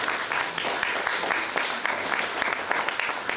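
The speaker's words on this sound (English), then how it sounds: "Give him a round of applause." Crowd applause at a book launch, a steady patter of many hands clapping at moderate loudness from a medium distance throughout.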